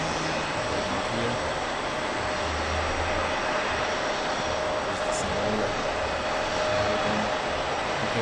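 An airplane landing gives off a steady, broad engine roar that holds at a constant level throughout, with no talking.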